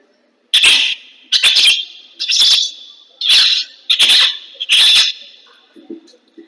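A voice mimics lovebirds with six sharp, high chirping squeaks in a quick, uneven series, close and fairly loud.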